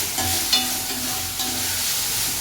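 Food sautéing in a pan for a home-cooked chicken gravy, a steady close sizzle and hiss with occasional stirring scrapes, no voices.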